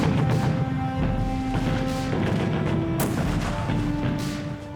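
Gunfire at the Gold Beach landing in archival World War II footage, sharp repeated shots and booming blasts over a dense battle din, with sustained tones running beneath and no speech.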